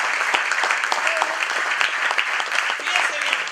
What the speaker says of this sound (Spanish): Dame un aplauso al Señor.